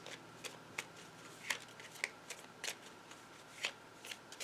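Cards riffle and snap in quick repeated shuffles, soft but close, with a faint steady background hiss and no talk.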